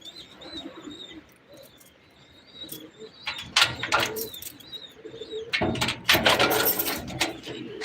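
Pigeon indoors, with soft coos and chirps at first, then bursts of loud wing flapping from about three and a half seconds. Rustling and thumps come close by.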